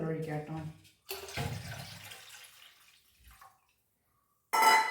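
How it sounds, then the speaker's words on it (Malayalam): Water poured into a vessel while making spiced buttermilk (sambharam), a short splashing pour between stretches of someone talking, followed by a pause and another brief burst of sound. "വെള്ളം ഒഴിക്കാം കേട്ടോ."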